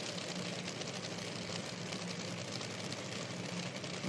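A top fuel drag racing car at an IHRA Outlaw Nitro Series event idles a little high, giving a steady, loud, dense engine rumble that runs continuously without a break.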